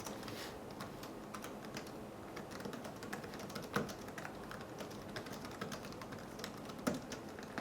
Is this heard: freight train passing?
no